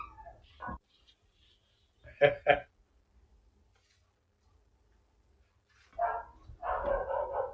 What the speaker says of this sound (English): I apologize for the barking in the background.